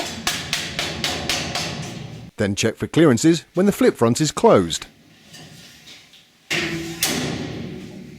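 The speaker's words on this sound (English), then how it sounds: "gently tap them onto the frame with a massive rubber hammer" Several rhythmic hard taps of a large rubber hammer fitting metal body panels onto an Austin Mini frame, a short burst of talking, then a few more knocks with room echo.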